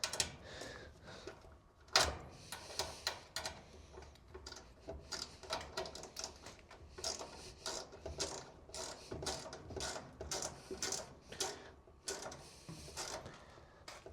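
A ratchet tightens a bolt on a Maytag top-load washer during a main control board replacement, giving quiet, continuous rapid clicking with a brief louder knock near the start.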